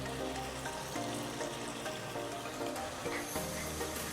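Tomato paste sizzles and fries in hot oil in a pan for a vegetarian paneer dish, a steady close crackle with no talking.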